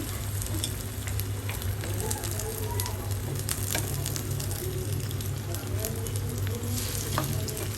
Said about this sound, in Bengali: এই যে বেগুনি ভাজা হচ্ছে।